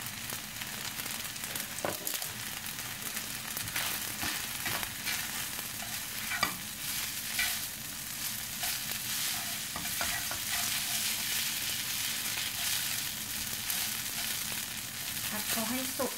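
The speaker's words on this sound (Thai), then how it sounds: "ผัดเส้นต้องให้สุกก่อนนะ" Noodles are stir-fried in a pan for rad na, a continuous close sizzle and hiss with scraping and tossing from a spatula throughout.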